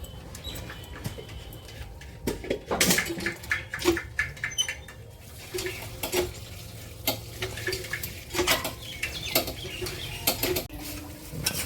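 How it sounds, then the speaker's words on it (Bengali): Goat mutton boils in a pot of hot water for a village-style curry, with irregular popping and bubbling bursts in clusters over a low steady simmer, close by and without talk. "মাংসটাও দেখো টকবক করে এই যে জাল হচ্ছে"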